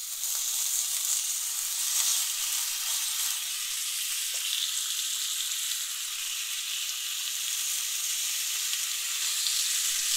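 Strips of bacon frying in a Lodge cast iron skillet preheated for about 20 minutes, a steady close sizzle and crackle holding evenly throughout with a few faint clinks early on.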